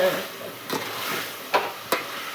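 Beetroot frying and being stirred in a pan for chitranna, a steady close sizzle with a few sharp scraping stirs near the end.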